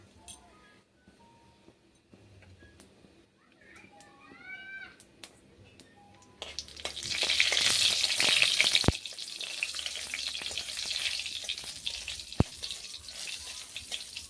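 Dried red chillies and panch phoron hit hot oil in a kadai and burst into a loud, crackling sizzle that carries on steadily after a quieter start, where a brief cat-like meow is heard.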